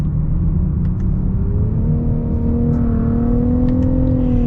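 Engine of a 2023 Nissan Rogue SL AWD with a CVT, heard from inside as a steady loud drone that rises and shifts in pitch while the paddles are used, with no talk.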